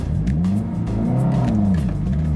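A 2022 Subaru WRX with traction control off bogs down at launch, giving a loud, close, continuous engine drone whose pitch sags and wavers.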